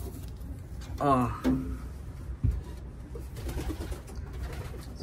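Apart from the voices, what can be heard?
racing pigeon cock cooing in the loft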